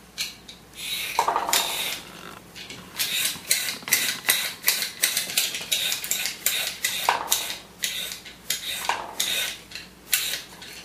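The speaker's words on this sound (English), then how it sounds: "And then cut the cucumber" A knife chops cucumber on a cutting board in a kitchen, a long run of sharp, rapid knocks in uneven bursts, close and fairly loud with brief pauses between runs.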